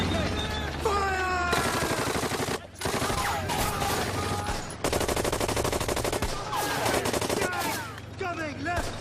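Rapid bursts of machine gun fire crackle through a cartoon battle, loud and nearly continuous, with a brief gap before the firing resumes, mixed with shouted voices and whistling effects.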